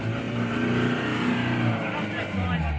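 A 4x4 truck engine revs steadily and loudly with its front locker failing to engage, the drone holding for about three seconds under a muddy off-road run, with some talk mixed in.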